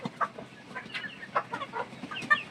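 Three-month-old Egyptian Fayoumi chickens cluck and murmur nearby on a farm, a scattered series of short clucks and soft calls from several birds at moderate volume.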